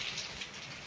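Heavy rain pours down in a steady, dense hiss close by, with no breaks and no voices.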